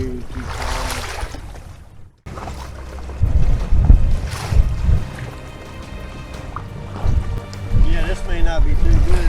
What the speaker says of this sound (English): All these white cappers. I'm riding the waves.